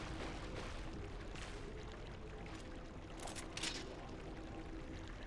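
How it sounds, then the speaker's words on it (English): Water flows steadily in The Legend of Zelda: Twilight Princess HD, a faint continuous rushing wash with a couple of brief brighter splashes near the end. "So the water's flowing."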